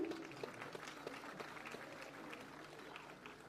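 Faint, steady applause from a crowd at a civic reception for President Ram Nath Kovind in Lucknow, India, a continuous patter of clapping heard from a distance without pause.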